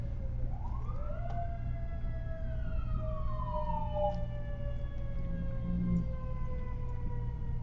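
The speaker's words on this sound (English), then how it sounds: "Cue siren." An emergency vehicle siren wails through a steady rising and falling sweep, moderately loud and somewhat distant, over a constant low rumble with no talk.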